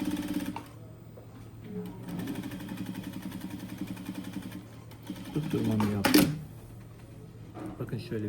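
A sewing machine stitches topstitching on a tracksuit in a few bursts of rapid, even whirring, stopping and starting, while a person talks nearby.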